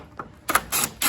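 Screws are driven into a headlamp assembly on a 2021 Dodge Ram Rebel pickup truck, giving a few quick ratcheting clicks and bursts of tool whir at close range.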